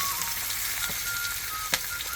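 Ginger, garlic, cumin and mustard seeds sizzle steadily in hot oil in a kadhai, with a continuous close frying hiss and a few sharper crackles and pops toward the end.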